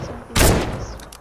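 Gunfire in the video game Fortnite: a single sharp, loud burst of shots followed by a decaying tail and a couple of fainter pops.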